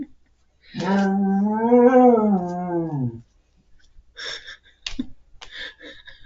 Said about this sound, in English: That was the dog.